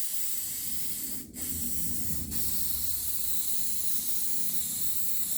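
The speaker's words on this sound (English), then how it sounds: "This hairspray" A can of hairspray sprays steadily onto cheap model trees, a close, loud, continuous hiss with two brief breaks near the start before it resumes unbroken.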